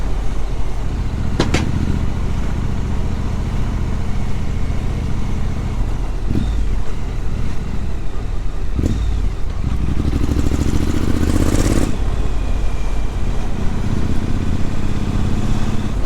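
A Triumph Scrambler motorcycle engine and exhaust idling and revving, a loud steady rumble that swells near the end, with no talking.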